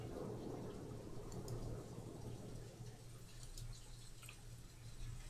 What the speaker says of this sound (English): We have thunder and, I guess, lightning and rain.